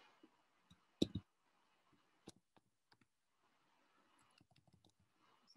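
Computer keyboard keys clicking in sparse, irregular taps, quiet and close, with one louder clatter early on and a scattering of faint clicks toward the end, under soft background hiss.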